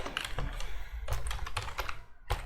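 Code being typed on a computer keyboard: close, quick bursts of key clicks in uneven clusters with short pauses between them, no voices.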